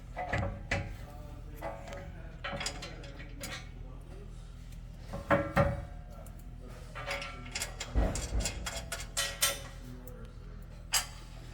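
Ratchet tightening M8 bolts under a 5th-gen Toyota 4Runner modular rear bumper, with bursts of clicking and metallic clatter that come and go over low background noise.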